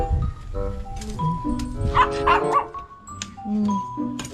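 A pet dog barks and yips close by at a small hut in the countryside, with short sharp bursts, a couple clustered in the middle, mixed with background voices and household clatter.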